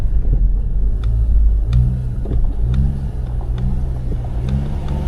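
A car engine revs steadily, its pitch climbing and dropping in distinct steps as the gears are changed, with a close, continuous rumble and no voices.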